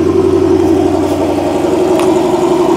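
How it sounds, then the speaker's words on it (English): A 2011 Dodge Challenger SRT8 idling loud and close, its steady low engine rumble topped by a constant high whine from the power steering, running alone without voices. "The Hulk is back alive with the power steering whine."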